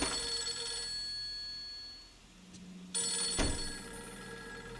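A telephone in the game Fatal Frame 3 rings with an electronic bell tone, fairly faint under ambient game hum, dropping out briefly before resuming with a sharp thump.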